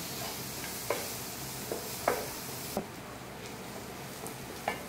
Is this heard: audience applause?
no